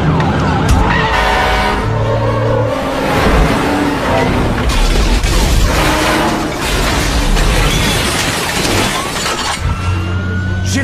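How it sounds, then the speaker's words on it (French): A fire truck siren wails, rising and falling amid roaring engine and traffic noise, loud and close, as the truck speeds along in an action film. "Je pilote un camion de pompiers à toute vitesse!"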